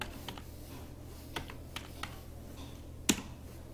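Scattered key presses on a computer keyboard during spreadsheet data entry, a handful of sharp, close clicks spaced irregularly, with one louder final stroke and no talking.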